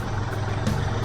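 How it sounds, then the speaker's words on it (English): A tractor engine idles steadily on a farm after a day of mowing, a continuous low rumble close by with no other sounds over it. "we'll put the tractor away and call it a weekend"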